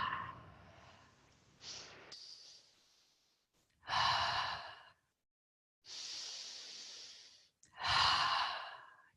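Slow, deep breathing during a prenatal yoga session, with long audible inhales and exhales alternating with short silent pauses, close and clear.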